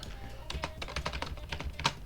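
Keystrokes on a computer keyboard, typed in an uneven run of close, crisp taps over a couple of seconds, with no talk over them.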